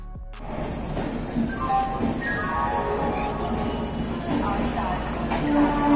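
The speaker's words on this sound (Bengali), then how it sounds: "ট্রেন একদম তার নির্ধারিত সময় বিকেল ৫:৪৫ ছেড়ে দিল হাওড়া থেকে মথুরার উদ্দেশ্যে।" Chambal Express pulls out of Howrah station, a low rumble of rolling wagons with metallic squeals and clanks rising steadily, while people talk nearby.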